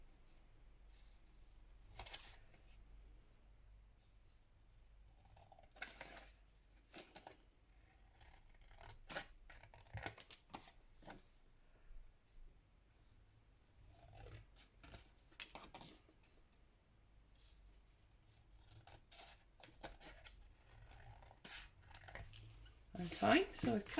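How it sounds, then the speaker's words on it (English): Scissors snip through a handmade fabric card being trimmed out for a junk journal, with short bursts of cutting and rustling of material scattered across a quiet tabletop, ending in a louder crinkle near the close. "So basically, cut down there and across the end, cut it all out nicely."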